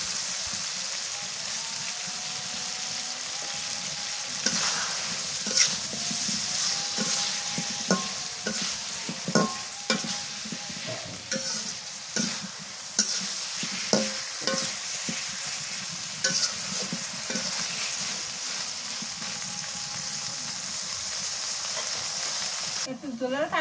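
Raw banana slices fry in oil in a pan, a steady sizzle broken by repeated scraping and clinking stirs of a spatula, close up.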